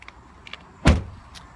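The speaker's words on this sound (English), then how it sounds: "And the door opens." The door of a 2016 Ford Explorer Sport opens by its handle sensor: faint clicks give way to one sharp, close latch thunk with a brief mechanical release, followed by quiet tail-off and no voices.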